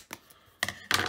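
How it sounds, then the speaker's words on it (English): Scissors cut across the top of an Upper Deck 2020-21 Series 1 hockey trading card pack. Two or three quiet, close snips and a crinkle of foil wrapper, alone with no talking. "I got the scissors, just gonna go ahead and cut across"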